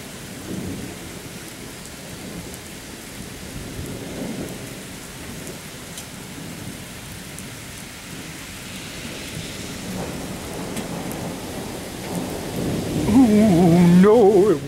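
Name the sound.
heavy rain with thunder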